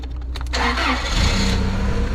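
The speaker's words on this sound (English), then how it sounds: "we got a bean truck that just got here" A grain truck loaded with beans pulls in at a farm, its engine running close by with a brief rise and then a steady rumble, no voices.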